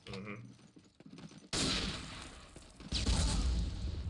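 Gunfire in the Day of Defeat match on the dod_armory map, a player getting sprayed with bursts of shots; dense, loud crackling volleys begin abruptly after a quieter opening and swell again near the end.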